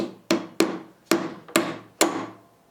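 A survival-tool hammerhead drives small drywall nails, five sharp close blows at uneven intervals, each ringing briefly before fading.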